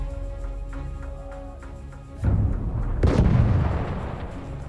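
An artillery barrage in the World War I shooter Battlefield 1, with distant rumbling then two heavy nearby blasts, the second loudest, followed by a long rolling roar of explosions.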